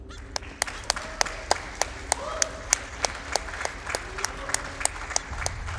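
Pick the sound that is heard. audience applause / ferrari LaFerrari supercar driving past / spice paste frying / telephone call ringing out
audience applause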